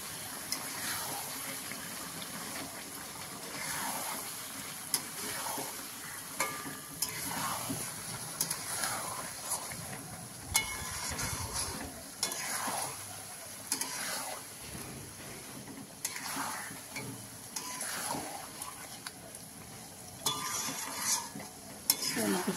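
Chicken is being sautéed with Kashmiri red chilli paste and spices, giving a steady low sizzle under repeated scraping stirs of a spoon in the pan, close and continuous with no talk.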